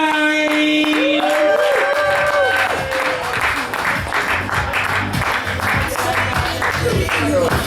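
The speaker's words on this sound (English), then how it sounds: "Start clapping right now." Audience clapping at a Tuesday poetry cafe night, a sustained crowd of hands spread across the room over a steady musical beat, with voices mixed in.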